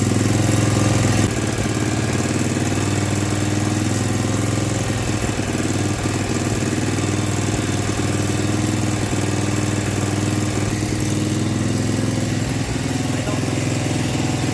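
A 1970s snowblower engine runs steadily after its choke is turned off, a loud, close, continuous rumbling drone with slight unevenness, while people talk faintly underneath.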